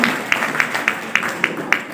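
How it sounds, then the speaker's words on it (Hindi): Audience at a literary festival in Gorakhpur claps in a slow, even rhythm, about seven distinct claps standing out over a busy room murmur. "मैं चाहूंगी कि आप लोग जोरदार तालियां बजाकर मेरे गुरु उस्ताद सुजात हुसैन खान साहब और उस्ताद रहमत अली खान साहब के लिए जरूर तालियां बजाएं"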